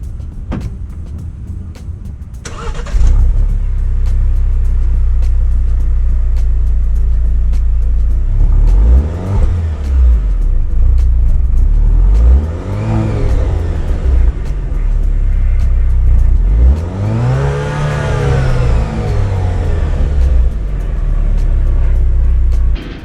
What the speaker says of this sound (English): You know I gotta give you guys the cold start.